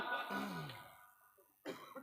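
A single rough cough with throat clearing, close and fairly quiet, followed by a brief pause and a short sound.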